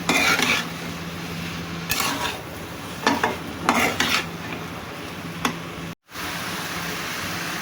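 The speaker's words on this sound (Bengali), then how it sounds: "এবার ভালো করে ভেজে নেব।" Vegetables seasoned with turmeric and salt stir-fry in a pan, a steady sizzle under repeated scraping and clinks of a spatula against the metal, with a brief dropout near the end.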